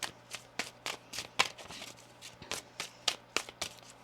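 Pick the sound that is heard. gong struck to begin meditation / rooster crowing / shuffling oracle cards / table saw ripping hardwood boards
shuffling oracle cards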